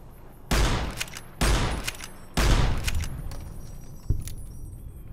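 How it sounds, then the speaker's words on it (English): Three sharp gunshots ring out in the Fallout New Vegas video game, spaced about a second apart, each with a decaying echo, followed by a softer fourth report. No one speaks. "Just took 3 shots without them detecting me."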